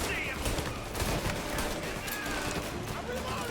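Gunfire hitting a truck in Mafia Definitive Edition, a steady hail of rapid shots and impacts over vehicle rumble, with a voice talking over it throughout.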